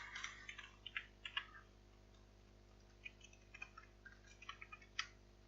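Light clicking keystrokes on a computer keyboard come in short scattered bursts, faint and close over a steady low hum, with a quiet pause in the middle.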